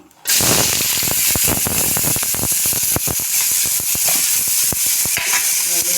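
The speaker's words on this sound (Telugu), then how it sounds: "ఆయిల్ హీట్ అయింది. ఎర్రగడ్డలు వేసుకున్నాం." Onions dropped into hot oil on a flat pan burst into a loud, dense sizzle that holds steady, peppered with sharp crackles and spits, close up and with no talking.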